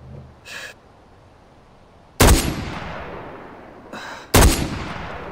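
Two loud, sharp gunshots from the video game Far Cry 4, about two seconds apart, each with a decaying tail. Fainter, shorter game sounds come just before each shot.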